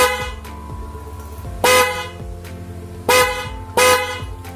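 A Chinese aftermarket car horn blares in three loud, brassy bursts with a night-bus tone, the later two honks close together after a pause with quiet hum between.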